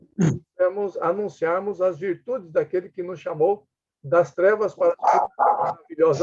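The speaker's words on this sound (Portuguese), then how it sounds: "Tem um cachorro latindo aí." A dog barks a few times in the background while someone talks in Portuguese in a church Bible lesson; the barks are short and partly buried under his steady speech.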